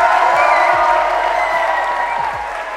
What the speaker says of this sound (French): j'aimerais qu'on applaudisse Frédéric qui organise tout ça